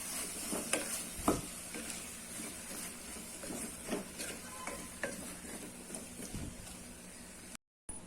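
Masala sautéing in a pan while making hotel-style tiffin sambar: a soft continuous sizzle with occasional scrapes and clicks of a spoon stirring, quiet and close, without talk.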